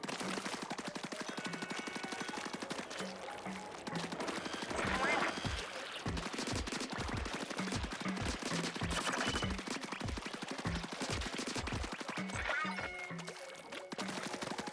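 Rapid automatic gunfire from the video game Splatoon rattles almost continuously over a steady game soundtrack, with brief breaks between bursts.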